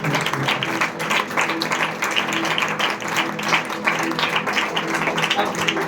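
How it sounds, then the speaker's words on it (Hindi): A church congregation claps loudly and continuously, a dense rhythmic wall of many hands at close range with a few voices underneath. "हम सभी लोग प्रभु के लिए जोरदार ताली बजाएंगे"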